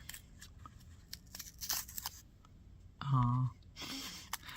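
Packaging from an Ipsy beauty bag being torn open by its tear strip: a short, loud ripping burst in the middle, with faint rustling before and a brief crinkle afterward.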